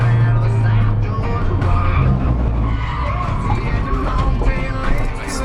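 A car loses traction, its tires skidding and squealing over a loud, continuous engine drone, with a voice talking over the sound.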